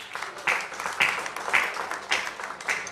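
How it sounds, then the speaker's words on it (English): An audience at an award ceremony and dinner night applauds an award recipient, with steady, moderately loud clapping and rhythmic surges of claps in a large room. "Another round of applause for him"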